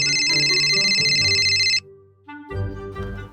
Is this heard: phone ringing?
yes